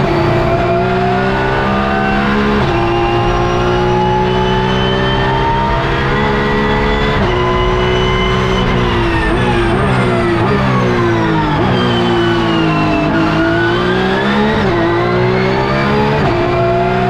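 Porsche Cup race cars at the Zolder circuit, a loud, continuous engine roar with repeated rises and drops in pitch through gear changes, as if heard from inside or very near a car, with no voices.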